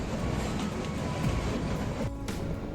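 Kalka-Shimla toy train running on its narrow-gauge mountain line, a steady rumbling rattle of carriages and wheels on track, continuous and close, with a brief metallic screech near the end.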